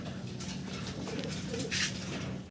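Soft, low cooing of Blue Bar racer pigeons close by, a repeated gentle throaty murmur over a steady background hum.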